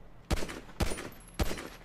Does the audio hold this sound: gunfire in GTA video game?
yes